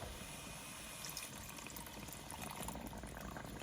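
Beef broth poured into a pot of braising short ribs, a steady, faint liquid splash and trickle that runs throughout, with no voices.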